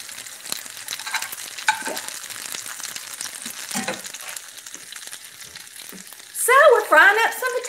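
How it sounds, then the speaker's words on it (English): Potato cakes fry in a pan with a steady, close sizzle and crackle that runs throughout, joined near the end by louder scraping and stirring. "Frying up some potato cakes."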